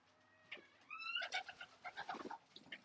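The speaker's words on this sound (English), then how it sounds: "There's one of the first drop pigeons right there." Racing pigeons coo softly in a few short, throaty bursts with brief gaps between them, close by and fairly faint, with no talk.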